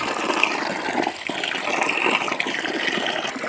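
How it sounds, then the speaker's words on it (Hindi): Water gushing and splashing steadily as a tub of soaking wheat is drained, poured out during preparation for a Ram Navami puja; a continuous, fairly close pour with no talk. "तो ये जो पानी था पूरा पानी गिरा लें और फिर इसी तरह और भी टब में पानी भर लेते हैं"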